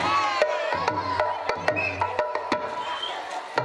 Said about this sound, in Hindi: एक बार ताली बजा कर दर्शकों का आप में सम्मान कर दो